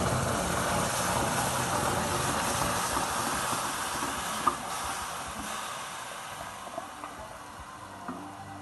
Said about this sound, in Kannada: ಇವಾಗ ಪೇಸ್ಟ್ ಮಾಡ್ಕೊಂಡಿರೋ ಅನಾನಸ್ನ ಸೇರಿಸ್ತಾ ಇದ್ದೀನಿ